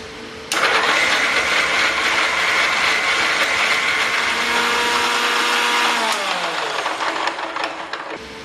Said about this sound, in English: now grind coconut.